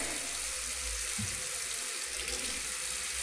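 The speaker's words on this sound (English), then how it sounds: "Use a lukewarm water, not too hot, not too cold." Lukewarm tap water runs steadily into a kitchen sink for washing a human hair wig, a loud, continuous rushing splash with a brief low knock partway through and no talking.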